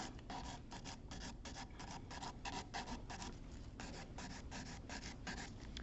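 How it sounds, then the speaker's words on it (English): Rapid rasping strokes of a file and buffer across a fingernail, a dense run of short scratchy bursts in quick rhythm, close and fairly quiet, with no talk. "just going to go over your basic filing routine and just shape your nail"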